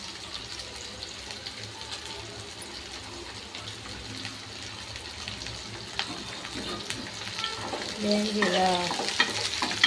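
Ridge gourd peel frying in oil with cumin for chutney, a continuous soft sizzle with stirring scrapes that grows louder near the end, while a voice speaks briefly.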